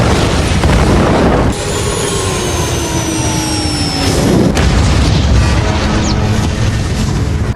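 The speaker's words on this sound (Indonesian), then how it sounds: "Dia melemparkan granat ke dalam mulut monster tersebut hingga membuatnya meledak." A grenade explodes inside a monster's mouth in a film sound effect, a loud, sustained roaring rumble with sharp booming hits and screeching tones, with no speech.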